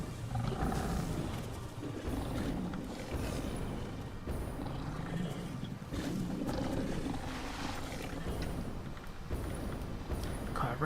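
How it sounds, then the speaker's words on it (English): Hogs in the Satisfactory video game give a chase, a dense run of growling roars and thudding steps that keeps up without a break at fairly close range, with no speech. "it really sounds like those hogs were chasing me then"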